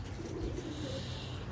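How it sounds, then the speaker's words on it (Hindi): Low flyer Madras pigeons cooing at a home loft, soft low throaty coos in short repeated phrases, fairly faint and close. "लो फ्लायर मद्रास कबूतर हैं ये"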